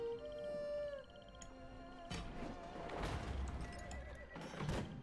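A horse whinnies in Total War: Elysium, with a harmonic neigh at the start and more neighing amid busy clattering effects and hoofbeat-like thuds.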